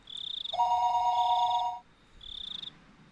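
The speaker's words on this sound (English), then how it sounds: "After I put down the receiver for a few seconds, the phone began to ring again." A telephone rings in the Higurashi: When They Cry visual novel: a bright electronic trill in repeating bursts, with a lower steady tone joining midway, clear and alone.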